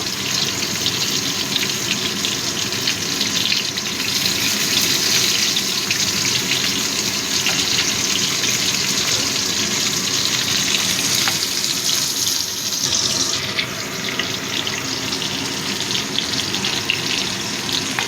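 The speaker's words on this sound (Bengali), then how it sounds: "এবার প্রথমে আমি আলুগুলো দিয়ে দিচ্ছি" Potatoes frying in hot mustard oil with five-spice tempering, a loud continuous sizzle and hiss that holds steady throughout and shifts slightly near the end.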